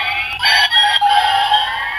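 An Ultraman Orb DX Orb Slasher toy sounds off as a finger slides across its touch sensor, giving a short electronic tone that steps downward in pitch, clear and close for about two seconds.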